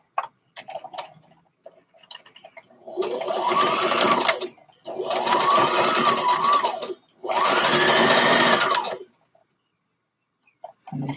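A sewing machine stitches a fabric band in three sustained bursts of rapid, close mechanical whirring, separated by short pauses with faint handling clicks.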